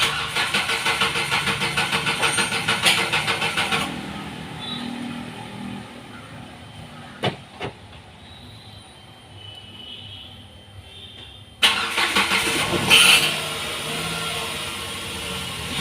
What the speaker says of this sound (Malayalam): അതിന് സെൽഫ് കൊടുത്തു കഴിഞ്ഞാൽ വണ്ടി സ്റ്റാർട്ടാവണം.